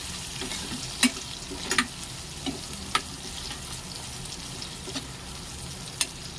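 Chopped tomatoes being stirred into a potato curry in a frying pan, with a low steady sizzle under scattered sharp clicks of the spoon against the pan.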